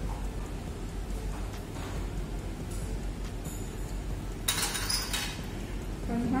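A glass flask in a titration being shaken and stirred, with light scattered clinks and a brief brighter rattle of glass over quiet background noise.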